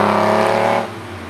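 Lamborghini Countach heard from inside while driving, a loud steady engine drone with road noise that drops off and eases as the car lifts off near the end.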